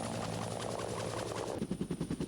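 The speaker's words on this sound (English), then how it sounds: "Marine variant of the AH-1 Cobra and forms the backbone of Marine attack helicopter units" A Marine AH-1 Cobra attack helicopter gives a steady, loud turbine and rotor roar. It shifts to pronounced rhythmic blade thumping toward the end.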